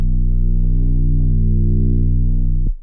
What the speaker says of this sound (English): Then at the end of 16 bars I added a bass.